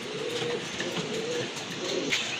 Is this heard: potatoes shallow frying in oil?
no